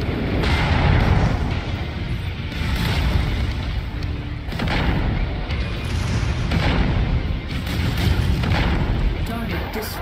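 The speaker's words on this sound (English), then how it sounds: "Incoming missile." Missile explosions in the mech combat game Mechwarrior 5: Mercenaries, with loud, rolling booms and blasts repeating through a continuous thunderous battle din.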